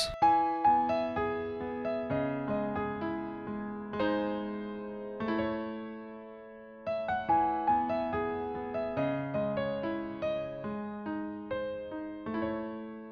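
Solo piano playing a syncopated right-hand melody over sustained chords, with a short pause midway before the phrase resumes; clear and moderately loud, no talking.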